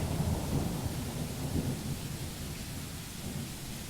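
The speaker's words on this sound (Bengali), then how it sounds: "ঝড় বৃষ্টিটা আবার বাড়লো রে।" A thunderstorm with heavy rain roars steadily, with deep rumbles of thunder strongest at the start and then settling into a constant wash of downpour.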